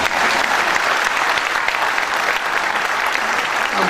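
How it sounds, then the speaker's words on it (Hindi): A corporate-show audience gives loud, dense applause for a comedic poet, with a packed crowd clapping continuously and evenly close by throughout. "यहाँ जोरदार तालियां बजा दें"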